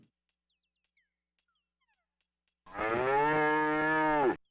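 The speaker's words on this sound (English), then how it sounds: "The cow noise?" A cartoonish cow moo from the King's Quest V computer game, loud and sustained for about two seconds, with harmonics rising and falling, preceded by a few faint clicks.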